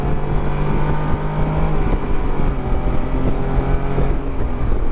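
A 2021 Can-Am Spyder RT Limited engine hums steadily while riding with the throttle closed and downshifting, a low, even drone mixed with constant wind rush and no talking.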